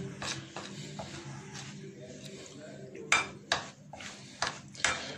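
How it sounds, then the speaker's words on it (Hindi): Onion pakora batter being mixed with water in a bowl gives steady scraping and stirring with a few sharp spoon clinks against the bowl near the end, over a low background hum. "और थोड़ा सा वाटर इस्तेमाल किया मैंने, और इसको मैं मिक्स करता हूँ"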